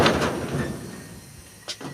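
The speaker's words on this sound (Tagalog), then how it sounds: "ang hirap buksan ng pinto" A stiff door being forced open, a scraping, grinding slide followed by a short knock near the end.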